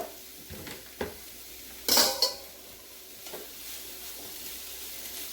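Chopped cauliflower sizzles quietly in a frying pan for a keto pizza crust, a soft steady hiss broken by a few clinks and scrapes of a utensil against the pan, with no talking.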